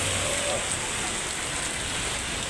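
Heavy rain suddenly pouring down during a charity ride, a dense, constant hiss of falling water with no break.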